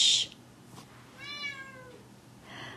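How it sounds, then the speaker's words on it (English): A house cat meows to be let out, one clear drawn-out meow in the middle with softer cries at the start and end, fairly close in a quiet room. "She should stop meowing soon"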